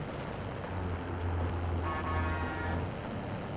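A car horn honks in the video game Call of Duty Warzone, a sustained low toot held for about two seconds beneath road and engine noise, followed by a brief higher tonal blare, with no talk over it.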